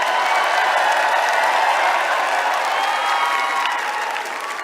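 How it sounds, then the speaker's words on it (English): Sustained audience applause at the Miss Universe 2018 evening gown preliminary competition, a dense, steady wash of clapping from a large crowd that holds loud throughout and eases slightly at the very end. "can we please have a round of applause"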